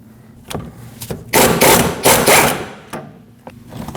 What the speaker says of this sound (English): with a 14mm socket, swivel and extension, let's remove that mounting nut